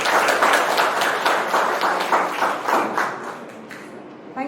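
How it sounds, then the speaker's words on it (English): Audience applause for a speaker being welcomed at a community disaster-preparedness talk: dense, steady clapping from a room of people that slowly thins and fades over a few seconds. "Please give her a round of applause"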